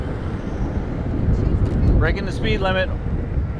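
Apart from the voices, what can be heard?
wind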